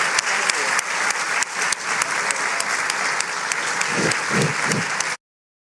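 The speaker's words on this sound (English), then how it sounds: "please join me once again in thanking His Excellency, Mr. İlham Əliyev" A crowd at a media forum in Khankendi, Azerbaijan, applauds steadily and loudly for several seconds, then the clapping stops abruptly.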